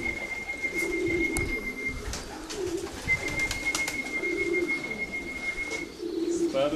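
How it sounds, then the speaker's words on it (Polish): Racing pigeons coo at a loft as they land, low repeated throaty coos in short phrases, fairly close, with a high steady tone and small clicks in the background. "O, i zaczynają się gołębie pojawiać."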